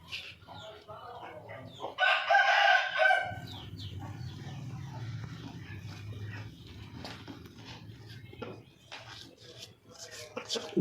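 A rooster crows loudly and close, then clucks in short bursts as it is fed a remedy of ginger, garlic and green chili, while someone talks over much of the clip.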